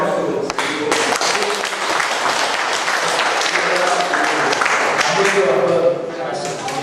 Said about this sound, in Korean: 노무사님께 감사의 박수 드리고